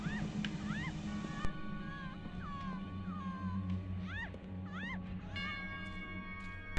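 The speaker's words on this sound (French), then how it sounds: "il est maigrichon comme tout ce chat, on dirait qu'il a faim" Several plaintive meows from a thin, hungry-looking cat in a dark alley in the video game Alice Madness Returns, repeated over a low steady ambient hum.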